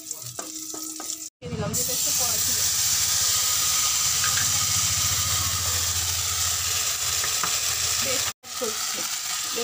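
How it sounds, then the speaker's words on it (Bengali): Bay leaves and whole dried red chillies hit hot oil with mustard seeds, setting off a loud, steady sizzle that holds close and constant after a brief moment of speech. "এবার এগুলো দিয়ে দেবো দুটো তেজপাতা, আস্ত দুটো শুকনো লঙ্কা,"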